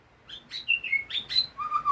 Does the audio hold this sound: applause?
no